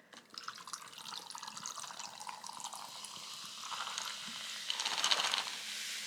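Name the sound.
pouring lime sparkling water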